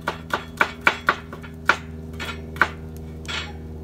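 A knife finely chopping a serrano chili pepper on a cutting board, about a dozen sharp, close taps in an uneven quick rhythm, some louder than others, over a faint steady hum.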